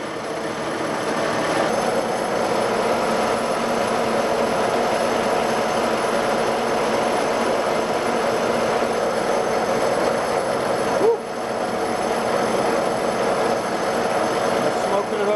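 A metal lathe fitted with a diamond tool holder takes a smooth feed cut at about 200 RPM under heavy load, producing a steady, loud, continuous machining drone with a brief dip near the end.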